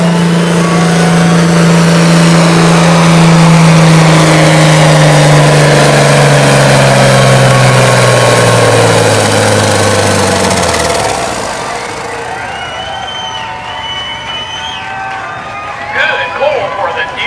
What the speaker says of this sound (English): He really enjoys pulling this tractor.